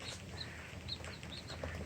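Small high-pitched peeping chirps from pheasant chicks about ten to twelve days old, several brief calls scattered over a steady noisy background.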